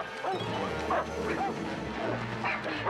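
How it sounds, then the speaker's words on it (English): Two dogs bark and yip in a chaotic chase scene from an old TV episode, sharp repeated barks over a dense, noisy background with some shouting voices. "A pair of dogs are chasing her."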